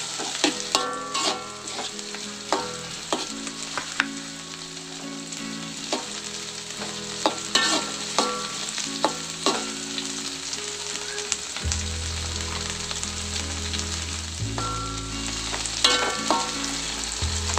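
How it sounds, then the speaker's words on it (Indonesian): Tempeh stir-fried in hot oil in a pan, a steady crackling sizzle with repeated scraping and clicking of the spatula as the pieces are stirred, close and continuous with no talk. "ini tempenya kita gongso dulu karena tidak digoreng lebih dulu ya"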